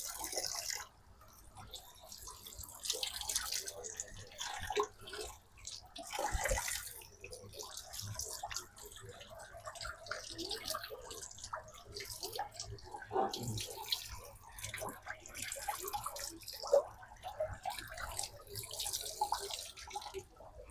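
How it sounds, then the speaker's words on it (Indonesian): Water poured and splashing in small irregular bursts while the head is washed during wudhu ablution, quiet and close, with dripping between pours. "Kita lanjut membasuh kepala. Lagi-lagi airnya jangan berlebihan"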